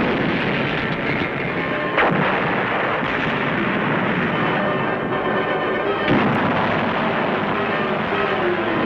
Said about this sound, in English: Enemy artillery is zeroed in on our positions.